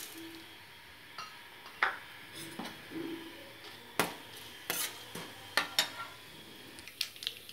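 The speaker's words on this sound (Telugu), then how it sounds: "ఆయిల్ హీట్ అయిపోయిన తర్వాత మనం తాలింపు దినుసులు వేసేసుకుందాము." Tempering spices fry in hot oil in a pan, a faint hiss beneath repeated sharp clinks and scrapes of a spoon against the metal, irregular and close, with no talking.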